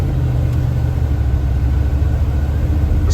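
A 50-year-old Ford F-150 4x4 truck accelerates gently, its engine giving a loud, steady low rumble that holds even and unbroken for a few seconds, with no voices over it.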